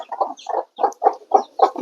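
Chickens clucking in repeated short bursts in a covered coop, close and fairly loud, with brief pauses between calls.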